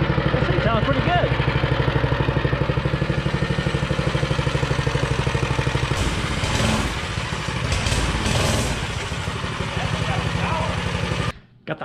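A homemade mini bike engine built from spare parts idles close and loud with a steady, even putter, its note roughening and shifting partway through before cutting out near the end.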